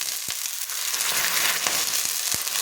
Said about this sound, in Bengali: সামান্য একটু জল দিয়ে দিচ্ছি আর চাটুটা এই জল দিয়ে খুব ভালো করে ধুয়ে নিচ্ছি